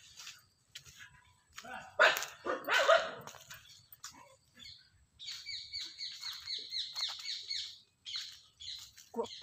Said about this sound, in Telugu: కుక్కల రాజ్యం